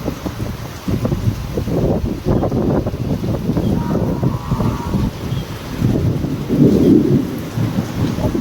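Monsoon rain falls steadily under repeated low rolls of thunder near an overflowing dam, with gusts of wind buffeting the microphone and a heavier rumble toward the end.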